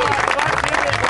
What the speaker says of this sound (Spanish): yo quiero primero brindar un aplauso